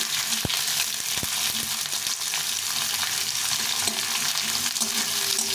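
Thick sliced onions, two large ones, fry in a pan with a constant loud sizzle and occasional clinks of a spatula against the metal.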